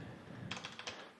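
A brief, quiet run of about five clicks on a computer keyboard comes in a quick, even rhythm over soft room noise.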